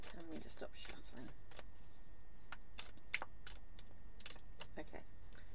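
Spanish tarot cards being shuffled, heard as a series of quick, crisp riffling snaps with short gaps between them, close and moderately loud, with no talking.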